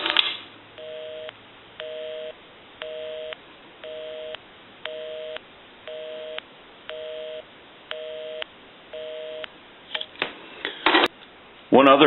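A 233G three-slot payphone dials out with a run of nine evenly spaced touch-tone beeps at a steady rhythm, then clunks and handling noises close to the handset at the end.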